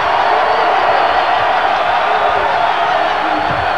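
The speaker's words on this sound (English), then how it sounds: "and their crowd is into it." A basketball arena crowd roars steadily during a Michigan 7-0 run against Michigan State in 1994, a dense, loud wash of cheering and whoops with no pauses.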